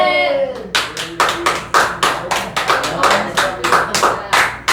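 A church congregation at a sermon claps in a quick, steady run of sharp hand claps, close and loud. A voice speaks briefly just before the clapping starts.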